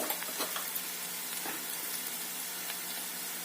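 Onion sizzling steadily in a hot pan with turmeric and spices added, a continuous close fry with small crackles and light stirring scrapes, no voices.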